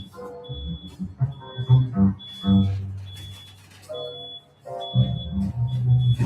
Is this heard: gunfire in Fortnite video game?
no